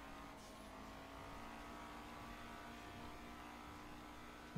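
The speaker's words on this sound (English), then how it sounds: "You revved up, huh?" A car engine in GTA 5 hums and revs steadily at low volume with a faint whine, with no talking over it.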